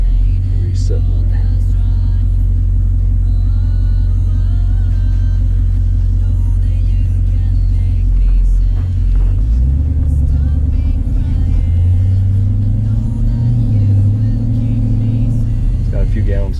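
A Jeep SRT engine running on E85 fuel while driving, heard as a loud, steady low rumble that swells and shifts in pitch midway as it pulls, with a person talking over it at times.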